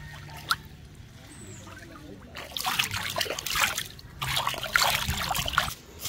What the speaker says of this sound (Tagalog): maghugas tayo ng paang maputik